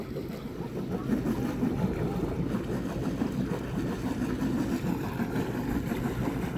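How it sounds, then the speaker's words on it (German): A motorboat's starboard engine rumbles steadily at low pitch while running in reverse, with a constant churning drone and no voices. "Steuerbordmaschine rückwärts und schon zieht das Boot von selbst an den Steg"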